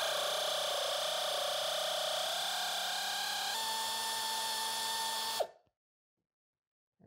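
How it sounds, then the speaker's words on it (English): An air ratchet runs steadily on a bolt of a 2007 Pontiac Solstice, a loud continuous whine that shifts pitch midway, then cuts off abruptly into silence. "you can break out your air ratchet"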